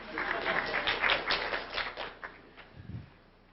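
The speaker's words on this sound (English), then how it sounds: "that's like getting applauded for saying the devil is not nice" Audience applause at a 1998 MIT EECS colloquium lecture, a short burst of scattered clapping in a hall that thins out and fades within a few seconds.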